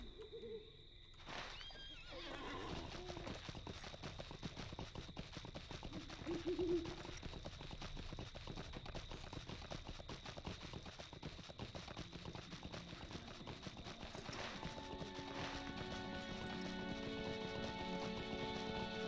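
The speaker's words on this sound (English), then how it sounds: "Let me get on my horse." A horse's hooves clip-clop steadily during riding in the online video game Lord of the Rings Online, with a continuous ambient game soundscape, whinny-like and hooting bird calls throughout, and no talking.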